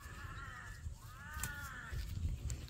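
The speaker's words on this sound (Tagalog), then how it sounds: "Ano yun ang ingay? Uwak yata yun." A crow caws twice in the distance, harsh drawn-out calls over a low outdoor background rumble.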